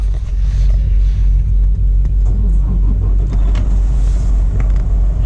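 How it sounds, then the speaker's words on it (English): A semi truck diesel engine runs after starting in 13-degree cold, a loud deep steady rumble close by with no talk. "I want you to hear this truck starting up."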